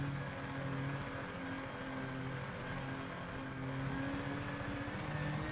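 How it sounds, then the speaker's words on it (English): Rover engine of an SRV buggy in the game Elite: Dangerous, revving hard and holding high on a climb, a steady droning whine with layered harmonics that swell and dip slightly, close and continuous with no talk. "Revving to the max."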